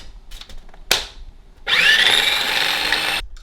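A blender whirs loudly for a couple of seconds, pureeing a lamb marinade with fresh herbs and garlic, after a brief clatter and short preceding noises; the motor cuts off abruptly.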